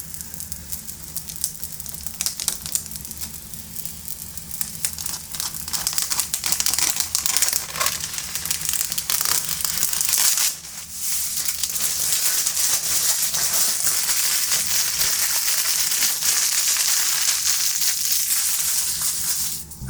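Crinkly, crackling peel of protective plastic film coming off new computer equipment, a steady rough rustle running throughout with a brief pause midway, close and fairly loud with no talking.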